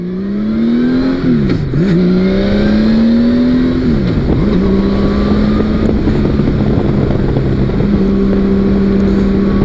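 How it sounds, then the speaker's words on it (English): Honda Valkyrie motorcycle engine with stock exhaust under way on a ride, rising and falling through gear changes, smooth humming tone climbing then dropping, loud and close with wind rushing over the microphone. "But this thing is so smooth and revs so fast"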